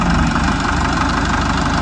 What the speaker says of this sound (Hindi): चालू कर रहे हैं ट्रैक्टर सोनाली का 60 को इस खेत के अंदर